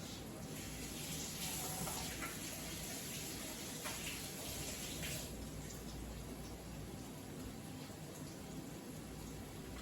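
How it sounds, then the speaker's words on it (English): Hands being washed under a running kitchen tap make a steady, hissing gush of water that runs throughout, with faint splashy shifts as the hands move. "I'm going to go wash my hand"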